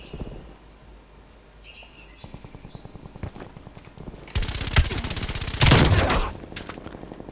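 A PPSh-41 submachine gun fires in a Cold War video game set in Miami, short rapid bursts building into loud sustained automatic fire, with faint bird chirps in the background.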